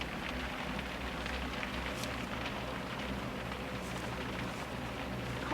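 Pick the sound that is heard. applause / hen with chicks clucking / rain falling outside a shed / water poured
rain falling outside a shed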